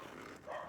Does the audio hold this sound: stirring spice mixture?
no